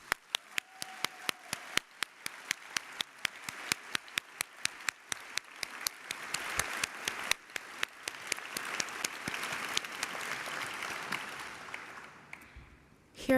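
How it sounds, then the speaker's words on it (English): An audience at a 2022 medical school commencement claps for the graduates' families. Sharp individual claps start out sparse and rhythmic, then thicken into fuller applause before cutting off near the end. "So please join me in a round of applause for our families."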